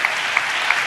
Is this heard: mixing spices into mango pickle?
no